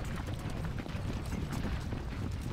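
Horses' hooves in the Civil War strategy video game Ultimate General: Civil War, a dense, steady clatter of trotting that fills the background at a low level with no clear gaps.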